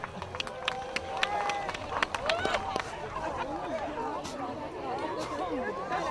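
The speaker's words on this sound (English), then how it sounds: "Big round of applause." A crowd gives a big round of applause at a community event, dense clapping and chatter with scattered louder claps and a voice talking over them.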